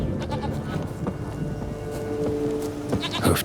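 A goat in The Witcher 3 bleats in a few close, wavering cries over a continuous background hum, without any voices.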